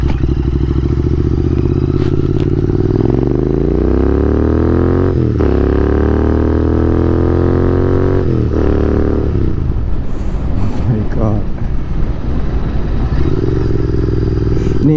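Royal Enfield-style Continental GT 650 twin with dual exhaust, heard close and loud as the engine revs rise and fall through gear changes, a steady throbbing drone with harmonic sweeps, then rougher idle-like rumble near the end.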